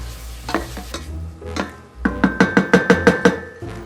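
Meat sizzles as it fries in a pan for mushroom soup, with a utensil scraping and tapping the pan in a quick run of about eight evenly spaced strokes near the end.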